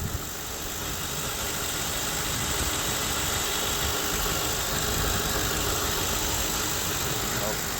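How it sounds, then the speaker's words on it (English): The engine of a 2006 Lincoln Town Car Signature Limited idles with a smooth, steady mid-range hum and a faint rumble underneath, recorded close and unbroken throughout. "Here's the engine. Hear it run."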